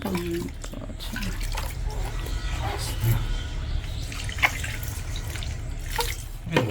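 Water poured over a baby's head while it is washed at bath time, with steady splashing and trickling close by and someone talking over it throughout.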